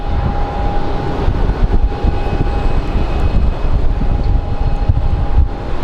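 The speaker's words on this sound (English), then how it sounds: "So we have an A320 that's headed to Portland" An Airbus A320 airliner at Phoenix Sky Harbor airport roars loudly and steadily nearby with a constant engine drone, a thin whine above it and gusty wind buffeting the microphone.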